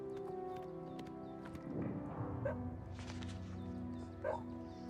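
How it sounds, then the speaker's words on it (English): A beagle barks a few times at an unseen disturbance in an outdoor game scene, the yelps moderately close and layered over steady ambient hum with scattered game effects. "And the beagle sounds off again. I don't know what he's barking at out there."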